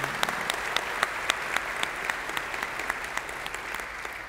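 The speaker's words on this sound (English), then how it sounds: "Give a hand clap to all of our first-time visitors this morning." Church congregation at a Sunday morning service clapping for first-time visitors, a steady roomy patter of many hands with a few crisp, regularly spaced claps standing out near the front, moderately loud throughout.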